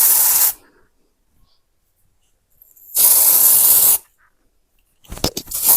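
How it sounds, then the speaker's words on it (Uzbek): Hair spray misted onto hair at home, two long hissing bursts of about half a second and a full second separated by quiet, followed by a short rattle of handling noise. "Hozir buni sepib yoqamiz sochimizga."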